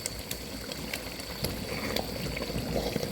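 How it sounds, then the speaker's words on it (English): Sizzling and bubbling of salted shito pepper sauce frying in a pot, a steady crackle with occasional sharper pops, close and fairly loud. "So I'll add the salt and let it cook. So it's frying beautifully."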